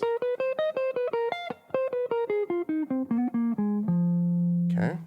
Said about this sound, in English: You can also add the blues note, which sounds like this.